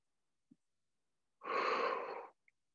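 A single strong, breathy exhale pushed through the mouth during an abs and core workout class, lasting close to a second, with faint small clicks before and after.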